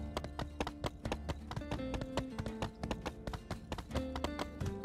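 Horse hooves clip-clop in My Time at Sandrock, a brisk, close run of sharp rhythmic clicks over a musical background, with no talk.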